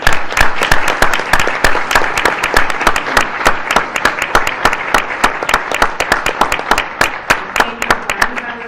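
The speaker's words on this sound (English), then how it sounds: "let's give them all a round of applause" A room of attendees at an annual Girl Scout meeting clapping for newly elected National Council delegates and alternates, loud continuous applause with crisp individual claps close by, holding steady for about nine seconds without any speech.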